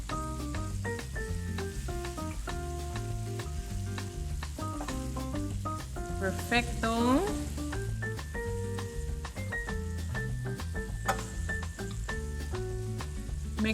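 Shrimp and green onion sizzle steadily in a hot pan, a continuous close frying hiss that runs under loud background music from start to finish.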